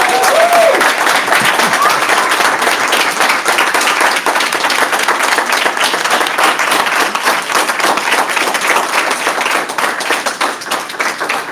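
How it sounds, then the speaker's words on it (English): Loud, dense audience applause at a school district event, many hands clapping continuously for several seconds with a brief voice at the start. "Please give everyone a round of applause."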